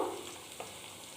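Baby corn frying a second time in hot oil: a continuous faint sizzle and crackle, steady and close, with no talk.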